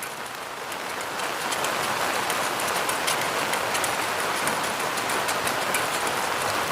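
Outdoors during baking, rain falls steadily on surfaces, a dense, even patter of drops that grows a little heavier after the first second and continues without voices.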